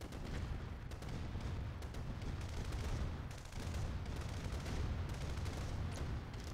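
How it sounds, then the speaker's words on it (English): Gunfire and explosions from the Red Alert strategy game during a quick match, a dense stream of rapid shots and booms mixed with low rumbling, played continuously with no talk. "He's shooting his conyard."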